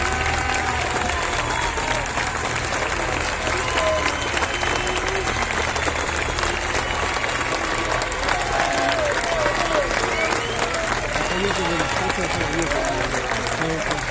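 A large crowd at an outdoor political rally applauds and cheers without a break, a dense, loud roar of clapping with shouts and voices running through it.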